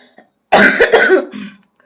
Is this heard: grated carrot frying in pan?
no